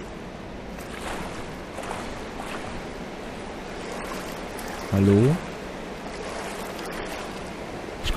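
Splashing and sloshing in cold water in Far Cry Primal, a steady wash of water movement throughout, with a brief voice partway through.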